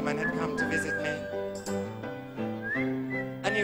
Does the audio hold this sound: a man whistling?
yes